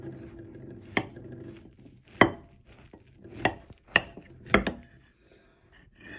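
A knife slices through cooked stuffed cabbage filled with minced meat, making about five distinct crisp cuts at irregular intervals, close and fairly quiet, with soft kitchen clatter between strokes.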